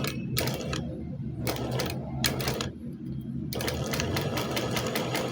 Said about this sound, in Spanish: voy cosiendo hasta donde termina mi costura